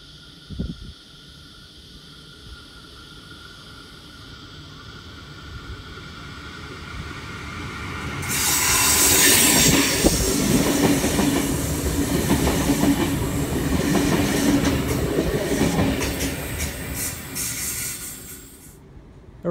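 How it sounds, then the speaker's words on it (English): A Sydney Trains V-set passenger train rolls through a station platform, its rumble and hiss swelling loudly after a quiet start, then holding steady with rail clatter before fading off. "we have a V-set bound for Sydney about to pass through platform number 1"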